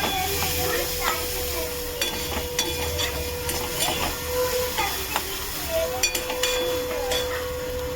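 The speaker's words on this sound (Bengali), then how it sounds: "গ্যাসটাকে স্লো করে একটু ভালো করে ভেজে নিতে হবে" Oats fry in a little oil in a pan over a low gas flame, a steady, close sizzle and hiss with small scattered clicks from stirring.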